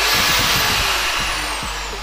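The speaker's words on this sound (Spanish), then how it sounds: "tenemos este pequeño taladro martillo que tiene una pequeña falla" A small DeWalt hammer drill with a worn armature and pinion runs steadily nearby, a loud continuous motor whine and rattle with no talking.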